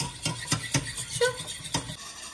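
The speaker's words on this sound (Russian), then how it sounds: "Мы постоянно помешиваем." A utensil stirs a starch and butter mixture in a pot, giving repeated scraping and clinking strokes in an irregular rhythm, close and fairly loud, with a faint sizzle underneath and no voices.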